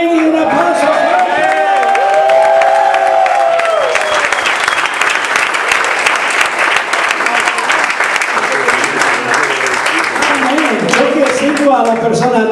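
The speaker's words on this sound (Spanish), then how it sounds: "¿Cuántos los santos pueden decir amén y un aplauso?" Loud church congregation applause mixed with cheers and whoops, sustained for over ten seconds; raised voices and sung or shouted phrases ride over the dense clapping early on before the crowd noise continues at full strength.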